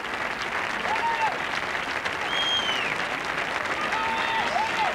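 A golf gallery applauds a new U.S. Women's Open champion, Janet Alex, with a steady wash of clapping throughout and a few whistles rising above it.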